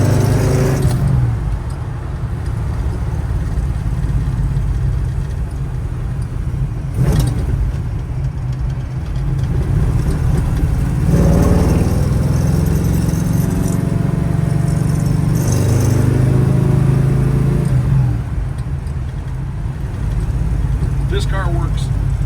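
A 1965 Chevrolet Chevelle Malibu coupe with a 454 LS7 big-block V8 making 500 horsepower rumbles loudly from inside the car, with the engine rising and falling as it drives and someone talking over it.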